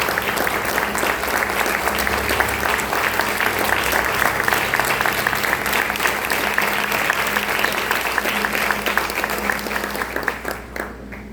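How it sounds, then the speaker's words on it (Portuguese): A church congregation applauds steadily at a Communion service, a dense, sustained wash of many hands clapping at even loudness that thins and fades in the final second. "dá uma linda salva de palmas para o Senhor Jesus Cristo"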